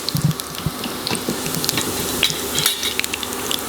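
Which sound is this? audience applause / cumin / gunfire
cumin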